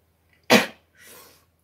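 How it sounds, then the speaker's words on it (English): A single loud, close human sneeze bursts out sharply and is followed by a softer breathy exhale, in an otherwise quiet room with no talking. "I'm going to sneeze."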